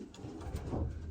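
Racing pigeons cooing nearby, a brief soft low burbling coo, faint and close, with no other sound.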